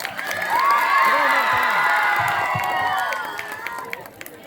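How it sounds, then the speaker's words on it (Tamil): A school annual day audience cheers and shouts for students after their drum performance, a loud wash of young voices with some clapping that swells, holds, then tapers off. "அம்மாணவர்களுக்கு கைத்தட்டி கரவொலி எழுப்புமாறு அன்புடன் கேட்டுக்கொள்கிறேன்."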